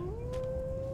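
A dog in Skyrim lets out a single sustained, high whining tone that rises slightly and holds steady, close and moderately loud over low background noise.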